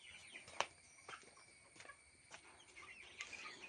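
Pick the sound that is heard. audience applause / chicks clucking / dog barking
chicks clucking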